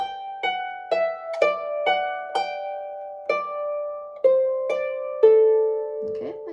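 A harp plays a short tune of about ten plucked notes, each ringing with bright harmonics and sustaining into the next, steady and moderately loud with no voice, as a Scottish tune is demonstrated with lead-on notes.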